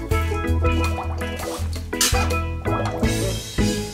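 Water squirts and dribbles from a squeezed bath toy in short, uneven bursts close up, with wet gurgling and dripping sounds over a steady background.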